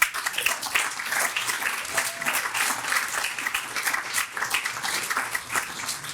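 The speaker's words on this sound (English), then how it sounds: "I just ask that you give them a big hand of applause" A room of attendees at a Chamber of Commerce annual meeting and awards ceremony clapping in warm, steady applause that swells and holds for several seconds.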